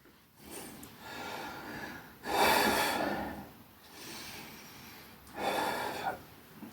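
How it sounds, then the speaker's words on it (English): A man breathes hard through Bullworker and isokinator strength exercises, with three loud, rushing exhales and inhales spaced about every two seconds, close to the microphone, and no talk. "supposed to breathe out on the way down"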